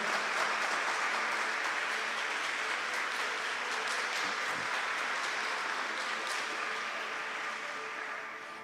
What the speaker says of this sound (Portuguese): Uma salva de palmas para o tratado da verdadeira devoção